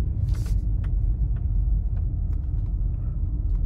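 A Porsche being driven, with a steady low engine and road rumble heard from inside the cabin, plus faint light ticks and knocks throughout.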